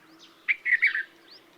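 A red-vented bulbul chirps a short burst of three or four sweet notes, clear and near, with faint background hum.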